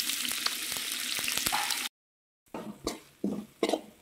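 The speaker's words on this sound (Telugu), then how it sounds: "మళ్ళీ తిరిగి బాండీ పెట్టుకొని 1 స్పూన్ ఆయిల్ పోసుకొని మనం తరిగి పెట్టుకున్న టమాటా ఉన్నాయి కదా, అవి వేసుకోవాలండి." Chopped tomatoes fry in a spoonful of oil in a pan, sizzling steadily and close, then after a brief silent gap the frying returns with a few louder stirring bursts.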